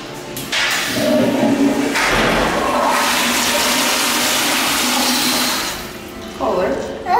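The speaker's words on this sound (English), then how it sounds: "Flush it." A toilet in a restaurant restroom flushes with a loud, close roar of rushing water that lasts several seconds and then fades to a trickle.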